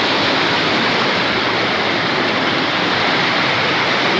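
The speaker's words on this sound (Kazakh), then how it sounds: "Үйден шығып атқан су." Floodwater gushes out of a house during a flood in Tulkibas district, Turkistan region, Kazakhstan, a loud, continuous close-up roar of rushing water with no break.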